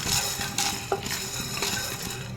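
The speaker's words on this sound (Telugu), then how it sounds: "మంచి వాసన వచ్చేంత వరకు వేయించుకోవాలండి పప్పుని" Dry lentils (dal) being roasted and stirred in a pan for pudina chutney, with scraping, clinking utensil strokes and a faint dry rustle throughout, close and steady with no talk.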